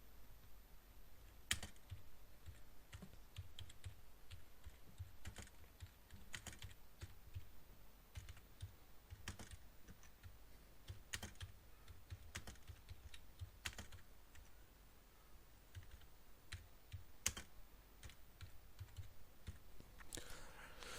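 Typing on a computer keyboard while writing a simple HTML page: a long run of close, irregular key clicks with occasional louder strikes, steady and without talking.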